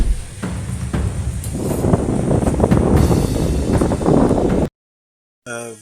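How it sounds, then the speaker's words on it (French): Strong gusty wind buffeting a microphone outdoors on a bright day, a loud continuous roar and rumble for several seconds before cutting off abruptly. "Il y a du vent tout partout."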